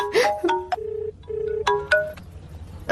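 A phone rings with an incoming call, short bright electronic tones repeating in a steady ring pattern, fairly close and clear with no talk over it.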